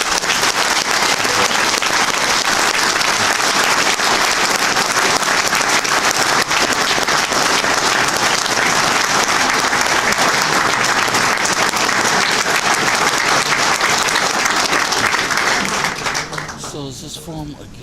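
An audience at a TPP public meeting gives sustained, loud, even applause for about sixteen seconds, then the clapping tapers off sharply at the end.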